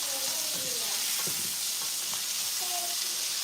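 Steady hissing sizzle of beef patties frying in a pan, close and continuous, with faint clinks and scrapes over it.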